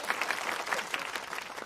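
Audience applause in a comedy scene from a Hindi film, a short burst of many hands clapping at moderate volume, dense and continuous with no speech.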